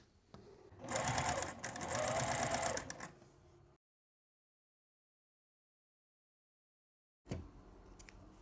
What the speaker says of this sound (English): Let's take that to the sewing machine, make those strips and attach them.